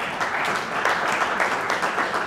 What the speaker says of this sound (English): Big hand for Rich Cruz